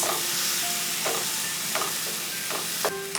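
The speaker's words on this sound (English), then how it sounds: "To this, I'm going to add some tomatoes. And we'll cook this on a medium flame for 2 minutes." Tomatoes cook in a pan over a medium flame with a faint, steady sizzle, broken by a few light clicks of stirring.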